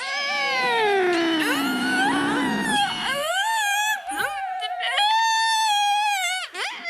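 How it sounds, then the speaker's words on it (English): A cat yowls loudly in long, wavering, drawn-out wails, several overlapping cries rising and falling close to the microphone. "Karloff yowled, and Monty squeaked and thumped"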